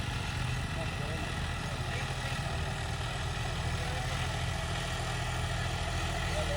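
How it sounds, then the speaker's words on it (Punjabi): A John Deere 5210 4x4 tractor engine chugs steadily and close by in second gear, a low, constant rumble with a regular throbbing pulse that never lets up. "ਸੀ ਦਾ ਦੂਆ ਗੇਅਰ ਪਾਇਆ ਹੋਇਆ ਬਾਈ ਨੇ"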